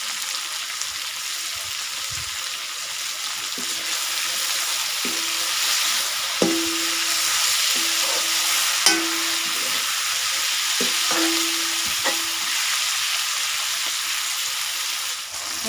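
Turmeric and salt hitting hot oil in a pan for a duck curry, giving a continuous bright sizzle with a few soft stirring taps and scrapes spaced through it.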